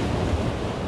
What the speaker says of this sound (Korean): 파도가 굉장히 셉니다